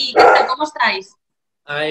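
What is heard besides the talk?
dog barking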